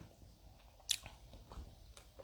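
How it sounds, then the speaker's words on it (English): Gum chewed right against the microphone, wet smacking and clicking bites in an irregular rhythm with one sharp crisp snap, close and intimate with no talk. "I'm chewing gum."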